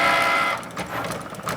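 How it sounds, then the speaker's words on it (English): Cricut cutting machine slicing printed Valentine stickers on a mat, a close mechanical whir with a steady tonal hum at first, then uneven rattling and clicking motor bursts. "now the machine is cutting"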